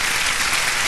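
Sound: audience applause in TV studio

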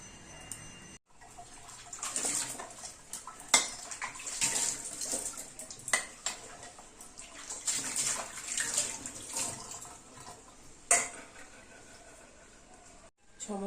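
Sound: washing dishes at sink with running water

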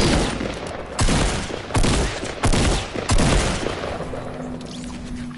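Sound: gunfire in Fortnite video game

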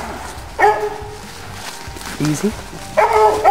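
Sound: dog barking at a bayed ram

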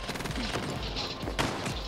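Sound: shotgun gunfire in an Xbox One video game

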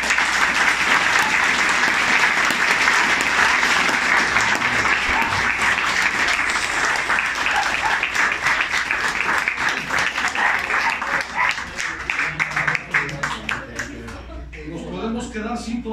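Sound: audience applause

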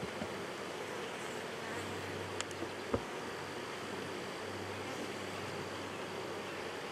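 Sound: honey bees buzzing around hive

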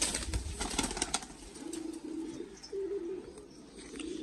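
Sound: female teddy pigeon cooing

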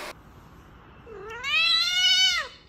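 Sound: cat meowing

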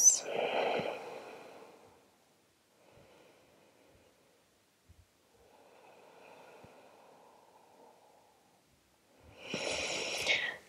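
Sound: deep breathing during a yoga forward fold

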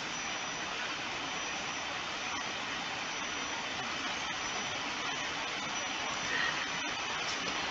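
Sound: plane engine in Roblox Aeronautica video game

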